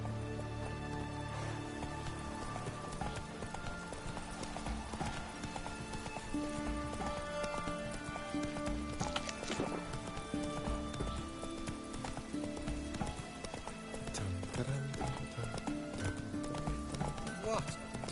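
Hooves of Roach, a horse in The Witcher 3, galloping in a steady rapid clip-clop over game music and ambience, with a rider's voice urging the horse on and an occasional whinny.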